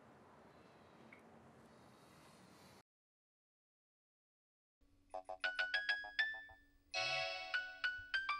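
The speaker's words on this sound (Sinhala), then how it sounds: "එහෙමනම් ඔයාගේ ෆෝන් එකෙන් මට කෝල් එකක් ගන්න." A mobile phone ringtone from an incoming call chimes in a series of bright, repeating electronic notes after a short silence in a Sinhala TV comedy, loud and close, with no talk over it.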